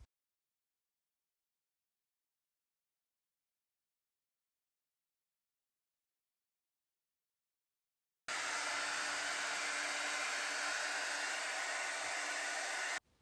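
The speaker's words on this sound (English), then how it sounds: "by hovering the diffuser over my hair or a little distance from it." A hair dryer fitted with a diffuser blows on fine, frizzy hair for a wavy routine. After a long silence it switches on as a loud, steady whirring whine that runs unbroken for about five seconds, with nothing else heard.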